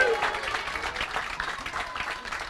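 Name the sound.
some audience members clapping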